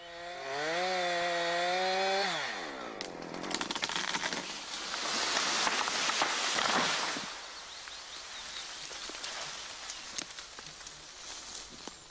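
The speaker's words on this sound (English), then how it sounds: "Keep sawing until the bar is parallel with the directional notch on the other side." A chainsaw felling a tree runs loud and close, its engine note rising in pitch over the first two seconds, then gives way to harsh, rasping cutting noise as the bar works through the wood.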